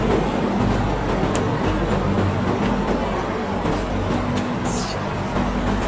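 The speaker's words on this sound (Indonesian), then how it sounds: "Suasana KTM, kereta api Tanah Melayu." A steady, loud rumble inside a moving KTM commuter train in Kuala Lumpur, Malaysia, with a continuous low roar and occasional faint high squeaks from the carriage.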